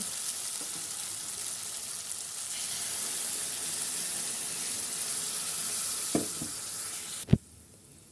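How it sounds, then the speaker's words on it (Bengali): Water hits a cooked-down spice paste in a hot pan for a shrimp dish, producing a loud, continuous sizzling hiss, followed by a couple of sharp utensil knocks before the sound cuts off. "এখন পানি দিয়ে দেব"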